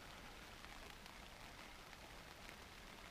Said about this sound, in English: The rain on the tent's a lovely sound.